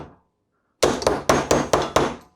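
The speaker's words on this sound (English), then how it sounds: "grab the nail like that, line it up carefully there, get your hammer" Hammer driving a nail held steady with pliers: five sharp, ringing metallic blows at a steady pace, loud and close, with no voices.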